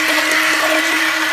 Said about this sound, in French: Alors là, on va mixer la pulpe de nos tomates.